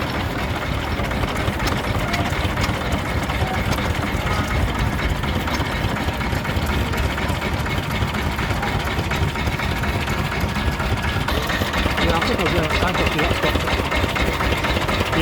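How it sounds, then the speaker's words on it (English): A Danziger two-stroke marine engine runs steadily at a stationary engine rally, its continuous mechanical chugging loud and close, with crowd murmur and voices faintly mixed in throughout. "Danziger marine engine, 2-stroke."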